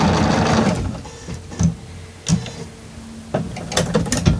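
Sewing machine stitching a row of a quilt block, a fast mechanical rattling run at the start, then a quieter stretch broken by a few short clicks and knocks before stitching picks up again.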